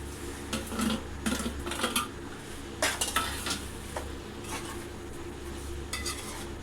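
A spoon stirs small fish into an onion paste curry in a pan, scraping and clinking in uneven strokes over a soft sizzle, close and fairly quiet.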